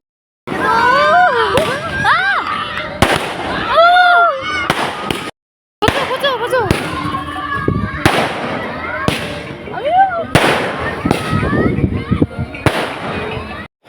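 Firecrackers and fireworks bursting at a Kali Puja celebration, with a rapid run of sharp cracks, pops and whistling shells close by, a brief gap, then more bursts, while people chatter and call out underneath.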